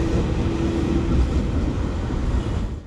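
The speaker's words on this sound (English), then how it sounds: "Our train pulls in around 15 minutes before scheduled departure." A passenger train hauled by a KAI Class 206 diesel locomotive pulls into a station in Indonesia, a loud low engine rumble with a brief tonal hum, easing off toward the end.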